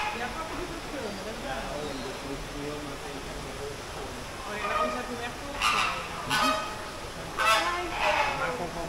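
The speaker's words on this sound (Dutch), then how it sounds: "het eerste wat we tegenkomen is een paar leuke vogeltjes" Geese in a park honk in a few loud, close bursts near the end, after a stretch of quieter outdoor background with people talking.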